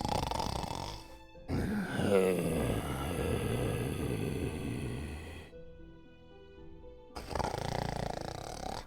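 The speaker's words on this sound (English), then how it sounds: "The most prominent one, as you get there, is a loud snoring." A loud, cacophonous snoring ambience plays during a tabletop game session: deep rasping snores in long, heavy bursts broken by short silent pauses, with no talk over them.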